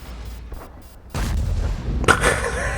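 Tank cannon fire in World of Tanks, a heavy booming shot that swells into a rumbling roar, followed by a second sharp report about a second later, fairly close and loud.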